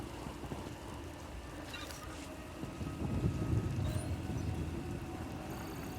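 Rain and a thunderstorm in the video game SWTOR: a steady hiss of rainfall with a low rumble of thunder swelling midway, fairly faint and continuous, with no voices.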